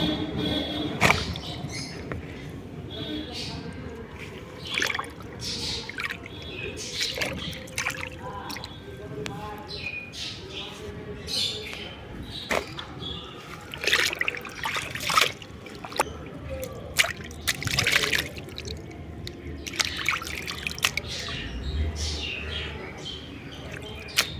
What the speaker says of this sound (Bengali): লাউ পাতাগুলোকে এখন ভালো করে ধুয়ে নেব